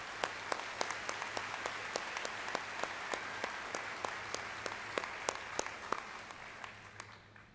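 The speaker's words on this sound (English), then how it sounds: "Let's give them a round of applause" Audience applause at a Delano High School graduation for the class of 2026, a steady distant patter of many hands with a few sharp nearby claps standing out, fading slightly at the close.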